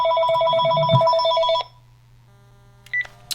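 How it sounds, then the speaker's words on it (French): A telephone rings in an indoor room with a repeated electronic trilling tone that stops abruptly, followed by near silence and a brief beep as it is picked up. "le téléphone sonne"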